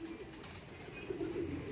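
Pigeons coo near a rooftop loft, a faint low murmuring call that swells briefly toward the end against quiet background noise.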